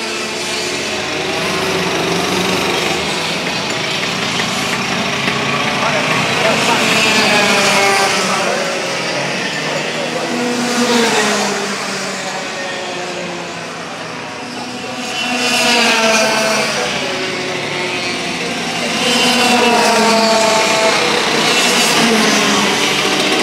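Racing karts run laps on a wet track at Carmona Race Track during a professional practice session, their high-pitched engines droning continuously at mid distance and swelling as karts pass by, with no talk over them.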